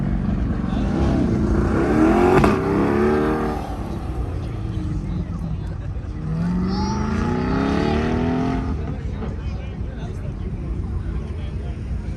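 A Corvette race car runs fast at an autocross event, its engine roaring and rising in pitch through two accelerating passes, loud and steady, while a commentator talks throughout.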